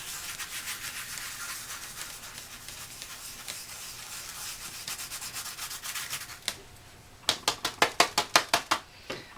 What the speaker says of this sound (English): I'm going to put it on again, right over top, not going to hurt, and then rub it in.